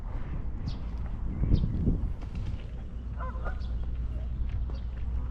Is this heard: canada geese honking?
yes